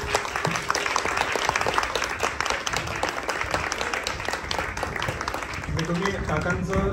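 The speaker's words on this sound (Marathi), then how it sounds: "एकदा काकांसाठी जोरदार टाळ्या झाल्या पाहिजे." An audience applauds a poet with loud, dense, continuous clapping that holds steady for the full seven seconds, a voice speaking over it toward the end.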